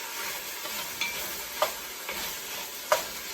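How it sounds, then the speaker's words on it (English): Pork browning in a pot sizzles quietly and steadily while a utensil scrapes and stirs it, giving a few sharp, close clinks spaced through the sound. "we're just going to sort of scrape up some of these bits, get our pork moving around"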